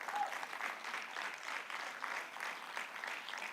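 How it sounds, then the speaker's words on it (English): A conference audience of colleagues claps for a newly appointed member, a continuous, fairly faint wash of applause throughout. "Let's give Ukalele a good round of applause"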